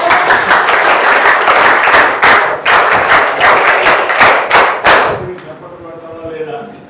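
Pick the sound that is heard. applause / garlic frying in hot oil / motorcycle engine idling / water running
applause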